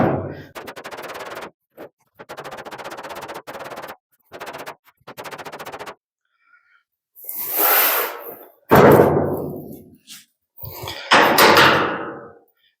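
Someone hammers ripples out of a metal tractor canopy. Close, loud bursts of rapid repeated strikes ring out, separated by pauses, followed by a few heavier single impacts near the end.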